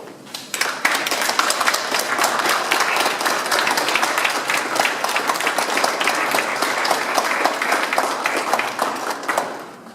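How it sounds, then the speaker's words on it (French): Sustained audience applause at a ceremony in a tropical agronomy garden, a dense steady wash of many hands clapping for about ten seconds before tapering off. "Je pense que ce droit accordé aux femmes mérite que les hommes se lèvent pour les applaudir très fort."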